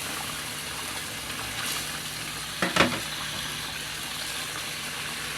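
Fried shrimp go into a pan of pointed gourd and potato curry, raising a brief splashing burst over a steady sizzle that keeps simmering afterward.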